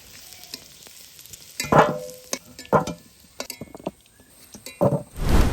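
Food sizzles in a wok while a utensil stirs and scrapes it in separate strokes, some louder than others, with quieter frying between them.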